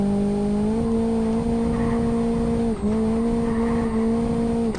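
A Renault Megane drifting with a sustained, high tonal tire squeal that holds steady for several seconds, dips briefly midway, then carries on, with engine noise underneath.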